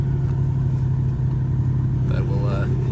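An old GMC Caballero engine idles steadily after sitting for over 20 years, a loud continuous low rumble filling the whole stretch, with faint rising tones near the end.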